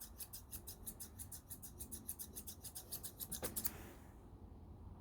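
Scissors snip rapidly and closely through a poodle's top knot hair, a quick even run of crisp cuts that ends with a final snip and then quiet.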